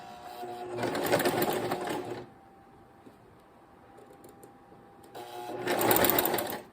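A sewing machine stitching a quarter-inch seam that joins two fabric ends runs in two steady, whirring bursts of about two seconds each, separated by a quiet pause, close and clear.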